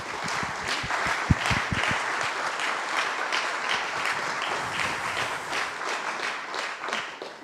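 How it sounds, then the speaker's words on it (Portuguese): A congregation at the centenary celebration of the Portuguese Evangelical Alliance applauds, starting with a few distinct close claps that merge into steady, fairly soft collective clapping lasting several seconds. "Uma salva de palmas também para eles"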